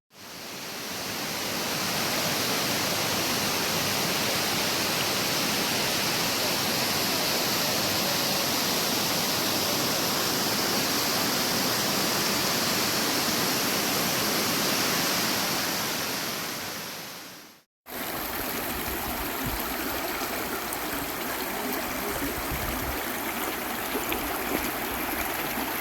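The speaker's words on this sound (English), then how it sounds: "I got some slow motion video of the water coming down, and it's so pretty." A waterfall pours down steadily as a loud, continuous rushing roar that briefly cuts out and resumes with a slightly different, closer splashing tone.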